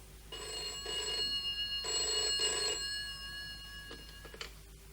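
A telephone bell rings in repeated bursts, loud and close, with short pauses between rings and no talk over it.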